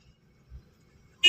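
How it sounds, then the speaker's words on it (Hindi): A car horn gives a short, loud honk at the very end, after near silence, during a driving lesson in traffic. "लॉन्ग हॉर्न पुश करो"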